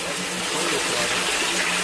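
Rainwater gushes steadily from a French drain outlet in a backyard during rain, a constant broadband rush of flowing water close by with no breaks.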